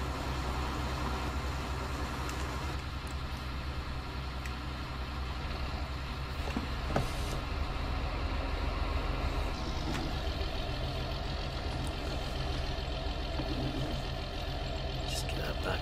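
A John Deere tractor engine drones steadily while chopping a field in Farming Simulator 19, a constant loud mechanical hum with occasional clunks and someone talking over it.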